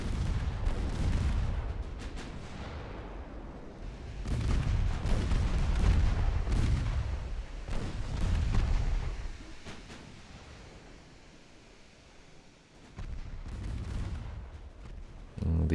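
Heavy naval guns boom in broad, rolling salvos during a battleship engagement in Ultimate Admiral Dreadnoughts, firing at the ship Victorious. Several loud blasts swell and fade over about sixteen seconds with quieter gaps between them.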